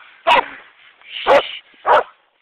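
A dog barks three times outdoors, loud and close, with sharp evenly spaced barks and brief quiet gaps between them.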